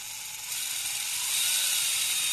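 RC crawler drivetrain whirs steadily with a fine high mechanical gear whine, close and continuous, slightly rising in loudness partway through.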